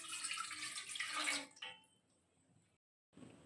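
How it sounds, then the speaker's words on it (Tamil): A cup of water splashes into a cooking pot, the pour rushing briefly and then tapering to a few drips before the kitchen goes quiet. "ஒரு பாத்திரத்தில் 1 கப் தண்ணி ஆட் பண்ணிக்கலாம்"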